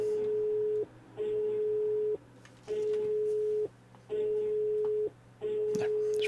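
A phone rings in the Rusty Lake Hotel video game, its repeating electronic tone sounding in regular bursts of about a second with short gaps, over a low hum and brief background noises.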